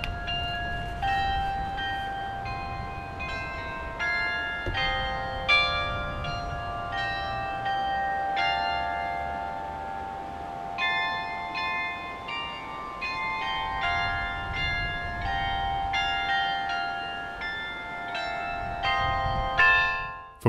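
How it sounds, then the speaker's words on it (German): Glockenspiel of the new MVZ in Olbernhau playing the peace song "Die kleine weiße Friedenstaube", clear ringing bell tones in a steady melodic sequence for about twenty seconds over a low outdoor rumble. "Vom Glockenspiel des neuen MVZs in Olbernhau ertönte am Freitag die kleine weiße Friedenstaube"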